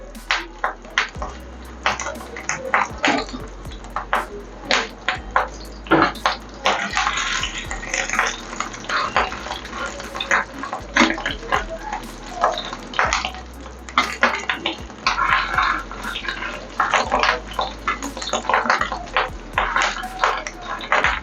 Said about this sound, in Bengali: এইভাবে সব কটা উল্টো পাল্টে ভেজে নিতে হবে